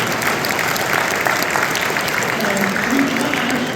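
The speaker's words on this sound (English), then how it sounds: "Guys, give him a round of applause." Audience applause at a Chicago evening event with UFC lightweight champion Khabib Nurmagomedov, a steady, dense clapping crowd throughout with some murmured voices beneath it.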